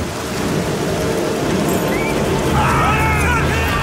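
Steady heavy rain with rumbling thunder over an open battlefield, a dense continuous wash that swells slightly later on, with faint high whistling streaks near the end.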